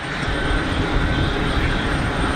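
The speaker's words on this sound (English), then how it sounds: "A little PC-12 sneaking in." A Pilatus PC-12 single-engine turboprop arrives at Geneva Airport, a steady broad engine drone with a rushing wash, fairly loud and unbroken throughout.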